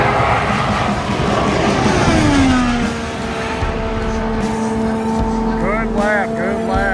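An IndyCar screaming past at speed during Indy 500 qualifying, a high whining engine tone that sweeps and shifts over loud crowd and track noise, with a commentator talking over it.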